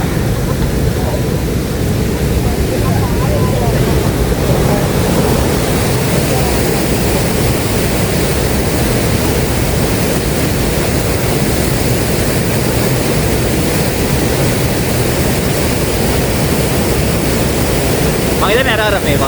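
Huka Falls roars as a dense, steady rush of water forced through under heavy pressure, a loud, constant broadband wash heard close by without pause for the whole stretch.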